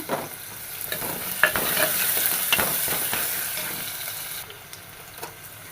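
Chopped ginger fries in a pan, a close sizzle with scraping and stirring clatter that swells and then eases toward the end.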